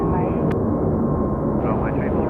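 At Seoul Incheon airport, a plane rips past the control tower with a loud, steady, close engine roar, and a voice can be heard over it.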